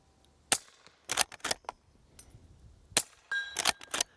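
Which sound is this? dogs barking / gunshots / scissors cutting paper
gunshots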